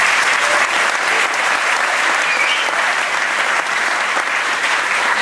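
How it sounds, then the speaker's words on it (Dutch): Dense, even audience applause from a crowd at an Arti et Caribbean 2012 event, continuous and fairly loud for the whole stretch with no voices standing out. "zeer welverdiend applaus"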